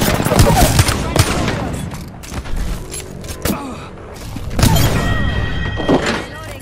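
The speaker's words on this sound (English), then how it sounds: "They're shooting at me." Rapid bursts of Apex Legends gunfire thud and crack in quick clusters, loud and close, with pauses between volleys while a person talks over the shooting.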